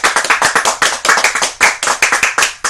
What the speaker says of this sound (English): I'd like everybody to give a nice round of applause for Shanda.